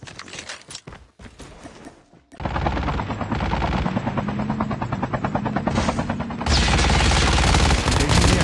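Helicopter rotor thrum in Call of Duty Mobile, loud and sustained beneath bursts of machine-gun fire and rapid gunshots, the roar swelling after a brief quieter opening.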